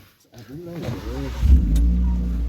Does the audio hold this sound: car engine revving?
yes